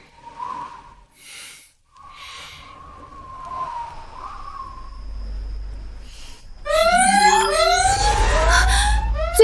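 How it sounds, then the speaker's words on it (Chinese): In a sci-fi drama, a top-level alarm siren wails near the end as a loud series of rapidly repeating rising sweeps over a low rumble, after quieter breathy gasps and tones. "最高级别警报，有东西突破了外围防线。"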